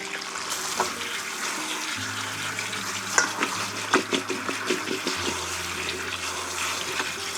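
Potatoes are rinsed under a running kitchen faucet, giving steady water noise with scattered splashes and knocks as they are handled, fairly close and with no talking.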